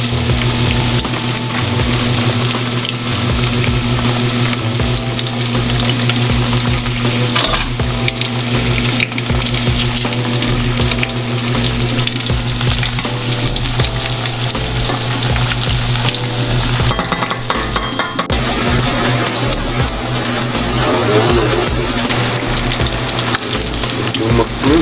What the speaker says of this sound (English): Just want them slightly pan fried on both sides.